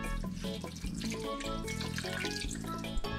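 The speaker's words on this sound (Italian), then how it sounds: "poi vado a mettere l'acqua" Tap water running steadily into a pot of shrimp heads with parsley sprigs and peppercorns, a continuous close splashing and gurgling rush with no talk.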